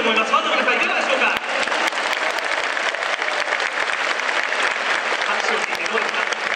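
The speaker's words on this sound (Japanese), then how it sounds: "拍手を聞いてどうですか" Baseball fans in a stadium applaud during a post-game hero interview, broad continuous clapping from a large crowd, steady and fairly loud with a brief dip near the start.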